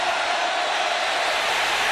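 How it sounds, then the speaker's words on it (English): A steady, dense roar from a packed stadium crowd at an Alabama vs Florida State college football game on third and eight, a continuous wash of cheering noise with no breaks. "Listen to this crowd on 3rd and 8"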